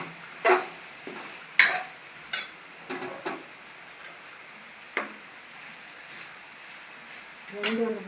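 Ridge gourd stir-fry being stirred in a pan, with a series of sharp intermittent scrapes and clinks of a utensil against the pan spread across the moment over a faint sizzle.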